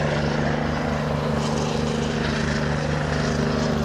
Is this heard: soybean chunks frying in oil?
no